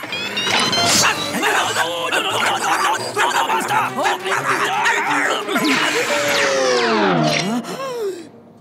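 A cartoon dog from Lazy Town barks, yips and whimpers in loud, busy bursts, mixed with snickering and laughter-like sounds and a voice talking alongside.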